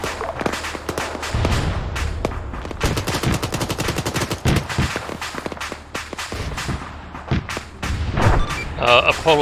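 Rapid automatic gunfire in ARMA 3 aimed at a fast-moving BMP armored vehicle, long loud bursts of close shots with booming impacts, and a voice speaking over part of it.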